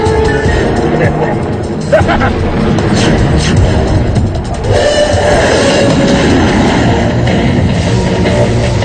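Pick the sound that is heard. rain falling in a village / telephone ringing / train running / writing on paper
train running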